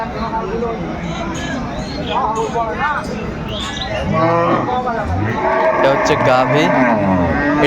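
A cow moos loudly at close range at a livestock market selling cows with calves at Aftabganj haat, with lowing calls recurring over busy crowd babble and nearby people talking.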